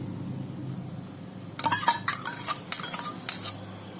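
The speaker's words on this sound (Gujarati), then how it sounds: "પહેલા આપણે દહીં મિક્સ કરી લઈશું અને પછી જરૂર પ્રમાણે પાણી ઉમેરશું" A metal spoon scrapes and clinks against a pot as sour curd and fine semolina are mixed for dhokla, in a burst of brisk, close strokes after a quiet start, with no talk.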